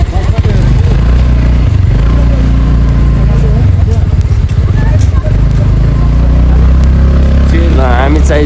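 A motorcycle rides through Mustang at night. Its engine gives a loud, continuous close rumble that fills the whole stretch, and voices are faintly mixed in.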